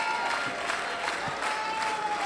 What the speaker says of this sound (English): Persons are clapping, encouraging her and saying well done.